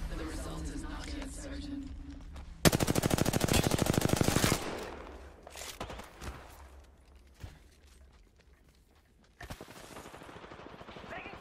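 Video game gunfire: a loud, dense burst of rapid automatic fire lasting about two seconds, followed by quieter scattered shots and game ambience, with voices talking around it.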